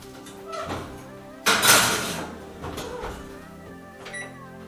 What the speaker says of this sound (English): I'm sticking it back in the oven for another 20 minutes